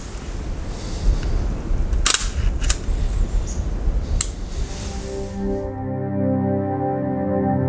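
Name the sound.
camera shutter taking a photo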